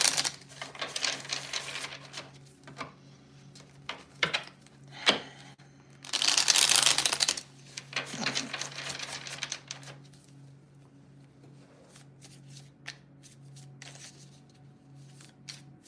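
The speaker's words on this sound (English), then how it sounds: "2 more shuffles." Repeated crisp riffling bursts of tarot cards being shuffled, a few quick flurries with pauses between, close by and moderately loud, with small taps at the end.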